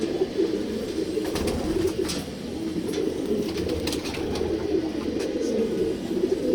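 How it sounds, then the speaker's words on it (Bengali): A male purebred old-bloodline pigeon coos in low, repeated throaty calls close by, with soft rustling and faint background noise around it. "ওর মধ্যে একটা নর দেখাচ্ছি আপনাদের"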